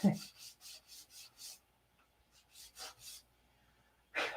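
Hand sanding on a P-47 model with 180 grit sandpaper: a run of steady, rhythmic rubbing strokes, a pause, then a few more strokes, close and fairly quiet.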